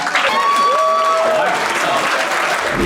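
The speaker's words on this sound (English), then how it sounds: "round of applause for all the porno people here" Audience applause at a live stand-up comedy show in Cyprus, a full steady wash of clapping with a few cheers and a voice briefly heard above it.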